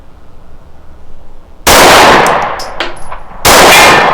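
Two loud, close gunshots from a Rost Martin RM1C pistol ring out about two seconds apart against a steel target, each followed by a metallic clang and ringing decay over faint background noise.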